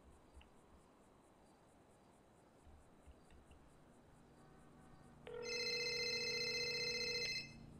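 A phone ringtone sounds during a call in the game GTA V, a bright electronic warble that comes in suddenly and rings steadily for about two seconds over low background hiss and faint insect-like chirping.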